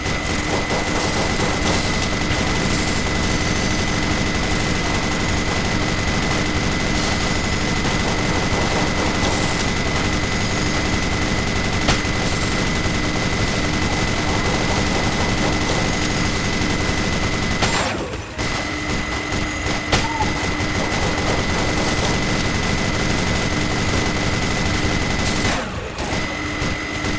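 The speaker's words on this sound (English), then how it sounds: "I think we're probably going to use the minigun on the boss" Minigun firing in Enter the Gungeon during a boss fight, a dense nonstop rattle of rapid gunfire with loud game effects, briefly interrupted twice.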